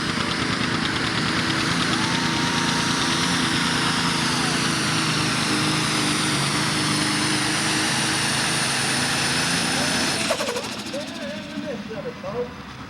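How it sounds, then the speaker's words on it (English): John Deere pulling tractor with a 353-cubic-inch engine at a 6,000 lb Super Stock tractor pull in Madisonville, Kentucky: a loud, sustained engine roar that fades near the end. "Here comes a 70-some-odd model John Deere. 353 cubic inches of John Deere."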